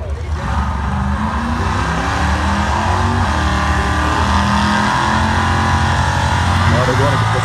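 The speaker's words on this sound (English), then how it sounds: "That's another car pulls up." A car rumbles up at a drag strip during a Kinston, North Carolina drag night, its engine holding a steady, loud idle and low revving throughout, with the general din of the track and voices talking underneath.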